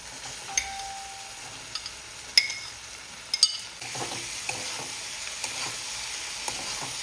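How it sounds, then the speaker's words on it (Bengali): Fried paneer pieces are stirred into sizzling masala in a pan, giving a steady close crackle broken by scattered spoon scrapes and clicks, louder and busier in the second half. "এর মধ্যে এবার আমি দিয়ে দেবো যে পনিরগুলো ভেজে রেখেছিলাম"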